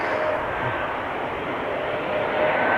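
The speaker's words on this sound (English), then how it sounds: "Embraer 190 arriving from Geneva" An Embraer 190 jet arrives from Geneva at Amsterdam Schiphol's Kaagbaan runway, a steady broadband engine roar holding evenly throughout, moderately loud and heard alone.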